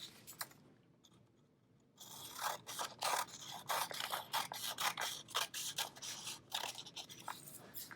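Scissors snip through a strip of folded paper in a quiet room, a steady run of close, crisp crunching cuts following a brief quiet start.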